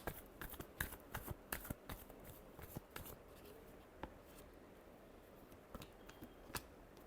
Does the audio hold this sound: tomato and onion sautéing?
no